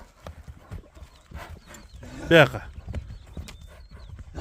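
Hooves of a stout bay horse clip-clop at a walk at a horse sale, a steady run of soft knocks with a brief louder burst midway, heard under people talking nearby.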